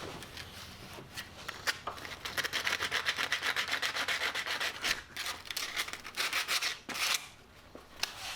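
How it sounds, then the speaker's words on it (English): Sanding burrs off a freshly cut metal intercooler bracket, a close, raspy back-and-forth scraping in quick rhythmic strokes that run for several seconds with brief pauses and a few sharper scrapes. "And as always, sand down the burrs."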